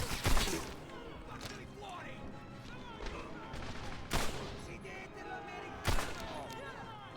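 Gunfire from an MG42 machine gun in the video game Medal of Honor Airborne, heard as a few sharp, loud bursts spread across the clip over a busy battlefield background with occasional voices.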